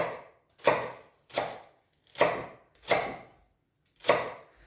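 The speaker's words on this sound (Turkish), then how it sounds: "Şimdi pırasalarımızı doğrayalım." Five evenly spaced knife chops through leeks on a cutting board, crisp and close, with short pauses between strokes and no talking.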